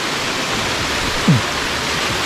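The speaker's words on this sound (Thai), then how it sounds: "มาเจอน้ำตก" A mountain waterfall beside the road up Phu Khao Khouay roars with a steady, loud, close rush of falling water, alone and unbroken.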